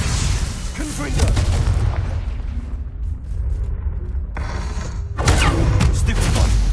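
A Confringo spell in Hogwarts Legacy on PS5 detonates with a deep rumbling boom, then a second loud burst follows a few seconds later, both heavy and close with a broad roaring tail.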